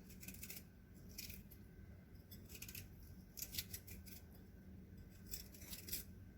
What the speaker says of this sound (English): I'm just going to cut the outside of the pear off rather than try to quarter this and then cut the core out.